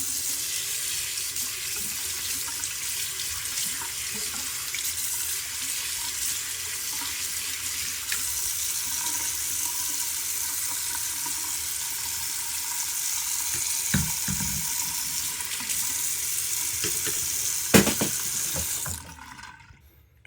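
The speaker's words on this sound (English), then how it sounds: "So you want to take that off first, and then you can run this underwater." Running tap water pours steadily over a head shaver being rinsed, a loud continuous hiss and splash with a few brief clatters near the end before the flow cuts off.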